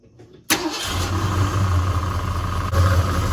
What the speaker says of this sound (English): you hear how the pump's kind of whining a little bit already